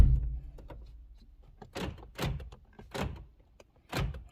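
A Toyota Corolla front door latch and handle are worked: a few sharp mechanical clunks and clicks land at intervals, each a crisp thunk followed by quiet, close to the microphone.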